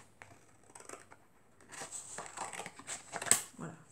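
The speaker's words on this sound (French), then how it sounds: "Pas évident de couper quand la page est encore tenue." Scissors snip a card out of a page that is still attached, giving scattered close cuts and paper crinkles that build to a sharp snip near the end, with a voice faintly talking now and then.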